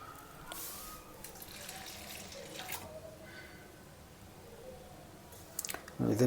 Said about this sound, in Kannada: ಇದಕ್ಕೆ ನೀರು ಹಾಕಿ ಒಂದು ಗಂಟೆ ನೆನೆ ಹಾಕ್ಬಿಡ್ತೀನಿ